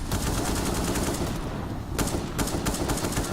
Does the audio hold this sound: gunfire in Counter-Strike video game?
yes